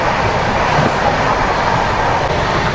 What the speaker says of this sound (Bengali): ট্রেন কিন্তু ফ্ল্যাট 130-এ চলছে এই লাইনে।